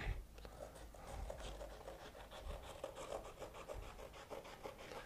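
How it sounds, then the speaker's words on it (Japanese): Scissors cut through cloth-like canvas print paper, giving a continuous close rasping, scratchy crunch of the blades working through the sheet, with no talking. "ハサミでね、簡単にね、切ることができます。"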